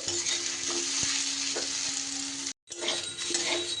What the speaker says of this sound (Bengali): সব সবজিগুলোই কিন্তু আমি ওই অল্প তেলেই ভালো করে নাড়াচাড়া করে ভেজে নিয়েছি